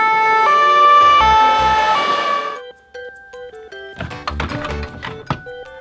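A loud two-tone ambulance siren wails in high-low steps for a couple of seconds, followed by clattering knocks and rattles.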